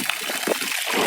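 Water from a well feeding a 10,000-gallon tank rushes out under strong pressure on a 140-acre rural property, a steady splashing trickle with no voices over it.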